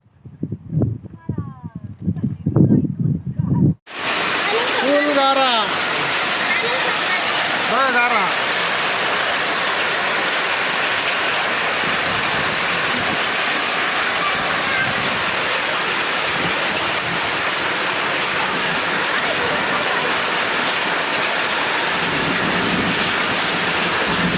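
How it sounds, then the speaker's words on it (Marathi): Unseasonal hailstorm rain pounds onion fields, a dense, loud, steady roar of falling hail and rain that starts abruptly after a few seconds of voices and then continues unbroken. "आत्ता 10 मिनिटापूर्वी गारांचा पाऊस, कांद्यांचं पूर्ण नुकसान"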